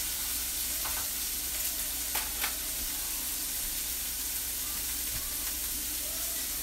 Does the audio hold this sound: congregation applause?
no